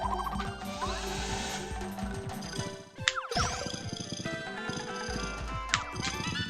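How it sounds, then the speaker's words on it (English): Hammer charging in the Nintendo 64 game Paper Mario, its effect sounding over dense, steady game music with a sharp break and rising sweep midway and a few bright accents. "Gonna charge my hammer."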